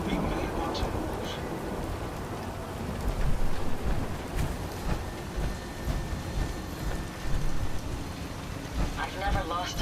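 Rain falls as a dense, steady wash of broadband hiss, with low rumbling surges throughout, loud and close.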